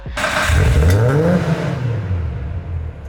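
A modified Nissan Skyline R32 engine revs up loudly through a throaty exhaust, then the pitch drops and the engine settles back down.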